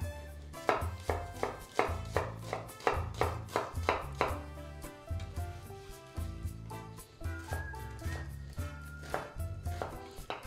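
A knife finely chopping onion on a cutting board, a steady run of sharp, close taps at an even rhythm with brief pauses, no talking.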